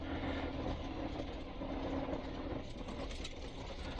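A 1998 Chevrolet Tracker engine warms up at idle, a steady, continuous low mechanical hum and rumble that holds at an even level throughout with no talking.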